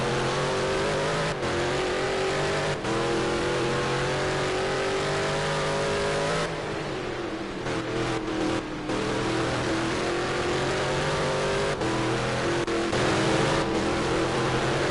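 Race car engines roaring in a video game race at Catalunya, loud and continuous, with revving pitch shifts, brief gear-change dips and cars passing through the whole stretch.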